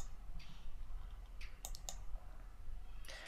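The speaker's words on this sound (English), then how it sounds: "I'm simply going to type on this on-screen keyboard" Mouse clicks while typing on an on-screen keyboard to enter a trig equation: a few sharp, close clicks scattered irregularly over a low steady hum, with a denser burst near the end.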